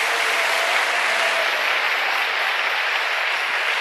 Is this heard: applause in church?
yes